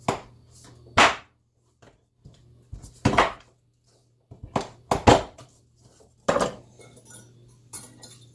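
Thick chocolate pie mixture whisked in a bowl, heard as irregular sharp clinks and knocks of the whisk against the bowl, spread out with quiet gaps in between.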